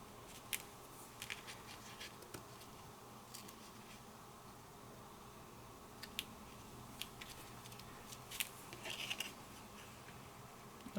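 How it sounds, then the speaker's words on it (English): Scissors snip away excess from a Diamond Press Christmas winter window kit, faint scattered cuts and small paper rustles at irregular moments in a quiet room, without speech. "I'm going to cut off whatever I don't need, so I'm just kind of eyeballing this right now"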